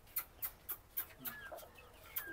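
Soft, repeated clucking from a chicken, several short calls in a fairly even rhythm, faint and close-miked.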